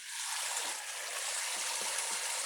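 Water sprays from a pump-fed camping shower head outdoors, a steady close hiss of falling water with faint splatter and no voices.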